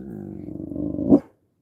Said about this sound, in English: she barking at a dog that's somewhere else